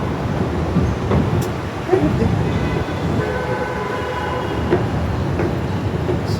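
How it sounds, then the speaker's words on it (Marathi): Steady rumble from inside a moving Pune metro train, with faint tonal whines and a few soft clunks over a continuous broadband roar, and voices faintly in the background. "चलो आम्ही आहे आता मेट्रोमध्ये,"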